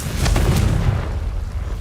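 A Confringo spell blast in the Hogwarts Legacy video game, a close, deep booming burst with a rumbling tail that fades over about a second, heard alone.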